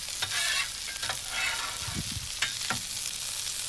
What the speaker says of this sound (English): Stop scraping that damn